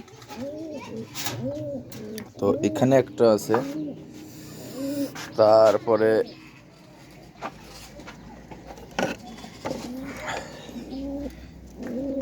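Pigeons coo repeatedly in a loft, including a red male with feathered feet, warbling rolling calls close by, while someone talks quietly over them.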